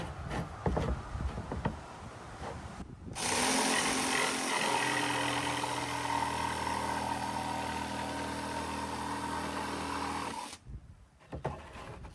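Power saw cutting about half an inch off a piece of plywood for a battery box, a sustained loud whining buzz lasting several seconds, close, with bumps and handling noises before and after.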